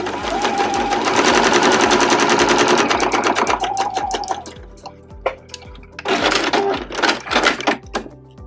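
A sewing machine runs a row of stitches along the fabric of a scrap-fabric zipper pouch, a close, steady rapid mechanical rattle that pauses briefly and then resumes in shorter bursts.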